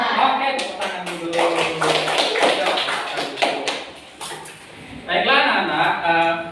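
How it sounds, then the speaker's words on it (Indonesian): Classroom applause as pupils clap their hands together, a dense burst of sharp claps that swells, dips briefly and picks up again, with a teacher's voice and children's chatter mixed in. "Oke, tepuk tangan dulu."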